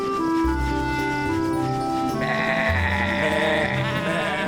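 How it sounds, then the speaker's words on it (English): Cartoon sheep bleat loudly and repeatedly in an animated farm story, several wavering cries overlapping against a continuous musical background. "Honk is teaching Woofy how to look after the sheep."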